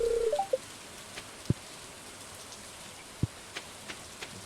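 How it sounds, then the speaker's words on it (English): Steady, soft rain hiss in the Stardew Valley farming game, an even wash of falling drops with a few sharp ticks and short blips scattered over it, no voices. "Running in the rain."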